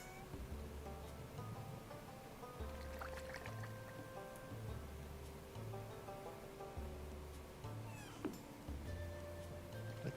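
Faint meows from cats in the video game Stardew Valley sound over a soft, looping musical background, with a few scattered game effects.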